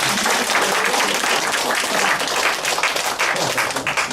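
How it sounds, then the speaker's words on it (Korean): Sustained applause from a conference audience at a marketing talk, dense and loud throughout with no gaps, many hands clapping together at close range. "이제는 박수."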